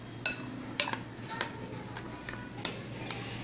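A utensil mixes a thick powdered-milk paste with milk in a dish, giving a few sharp, widely spaced clinks and taps against the dish over a faint background hum.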